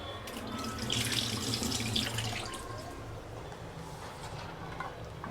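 Soaked desi chickpeas washed under a running kitchen tap, a steady close rush of water with splashing and faint dripping, no talking.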